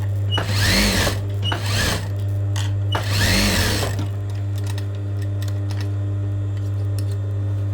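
A sewing machine stitches a cross-patti joint in tailoring work, running in two brisk bursts over a steady motor hum, close and loud with no talking.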